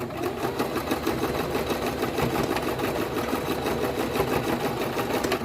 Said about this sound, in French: je viens passer sous la machine et je vais faire plusieurs allers-retours